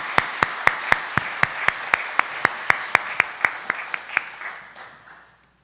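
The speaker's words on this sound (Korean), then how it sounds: "우리 모두에게 감사의 박수 부탁합니다" A church congregation applauding the choir and a young flute player after an Easter cantata, with sharp, evenly spaced claps in a steady rhythm that fade out at the end.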